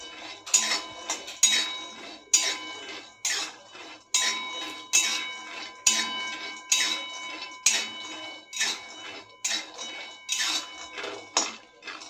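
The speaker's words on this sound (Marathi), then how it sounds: "शेंगदाणे मंद आचेवर एकसारखं हलवत भाजून घ्यायचं आहे." Peanuts are stirred while dry-roasting in a pan on low heat, making a rhythmic series of close rattling, clinking sweeps, roughly two every second, each one fading quickly before the next.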